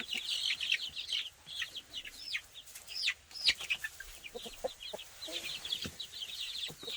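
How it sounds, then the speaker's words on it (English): Purebred Delaware chickens and a rooster cluck and chirp inside a newly finished hoop coop, a busy scatter of short calls from several birds at close range with no talking. "these little babies are purebred Delawares. That's what that rooster is back there as well"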